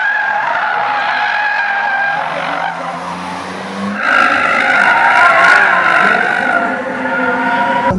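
Race car on a circuit braking hard into a corner, tyres skidding and squealing loudly over the engine's drone, the squeal rising and intensifying midway through and sustained to the end.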